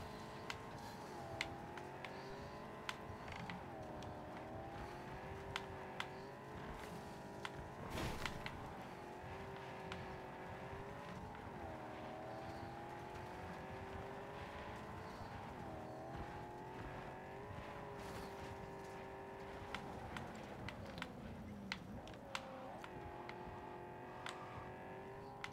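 Car driven in the Cyberpunk 2077 video game, a steady engine drone with shifting pitch as it accelerates and eases off, occasional tire squeal and knocks, continuous throughout.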